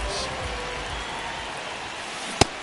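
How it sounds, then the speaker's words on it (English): Steady rain hisses evenly in an MLB The Show baseball game, a faint uniform wash with one brief sharp click near the end. "This rain is not letting up."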